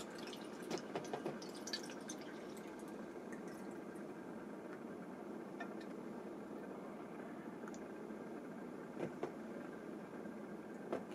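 Water pouring into a Pythagorean cup, a low, faint steady trickle with scattered small drips and splashes, heard up close with no talk.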